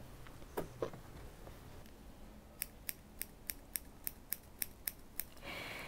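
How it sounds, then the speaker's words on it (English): Scissors snip fur on a needle-felted miniature golden retriever: a few scattered cuts, then a quick, even run of about ten crisp, close snips, with no talking. "I always get so nervous cutting their fur"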